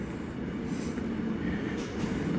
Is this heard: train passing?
yes